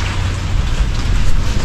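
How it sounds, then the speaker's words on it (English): Heavy rain with big drops falls steadily and loudly nearby, a dense continuous patter without talk. "Wow. Big raindrops."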